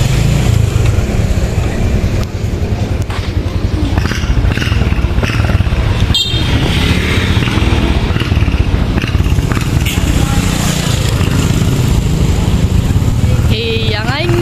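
A motorcycle engine runs steadily and loudly throughout as it is taken to be fueled, with people talking over the continuous rumble.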